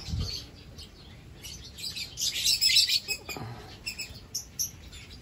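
Red-eyed creamino lovebird chicks in a nest chirp in thin, high, rapid bursts, fairly close and rising and falling in busy clusters.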